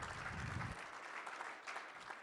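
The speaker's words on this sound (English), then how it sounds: "give a round of applause for all the vendors, material suppliers, and everybody that came out, set up their booths" A crowd at a construction safety kickoff meeting with vendor booths claps steadily, a fairly faint, even patter of many hands continuing throughout.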